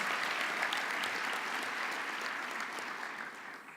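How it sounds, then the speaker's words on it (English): Crowd applause for military spouses at a Stars and Stripes event, a thick, continuous roar of many hands clapping that tapers slightly toward the end without any talk. "So, once again, for all of our military spouses,"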